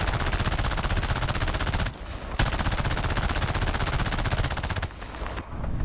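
Rapid, sustained machine-gun fire from the tail gun of a Ki-21-I-Hei bomber in War Thunder, in long loud bursts broken by two brief pauses, mechanical and relentless.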